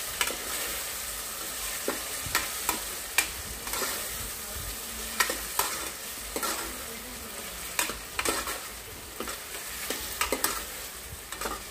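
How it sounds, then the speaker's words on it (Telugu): Tomato, colocasia and cooked rice stirred in a frying pan, with a steady close sizzle broken by repeated sharp scrapes and clacks of the spoon against the pan. "ఒకసారి బాగా కలుపుకోవాలి"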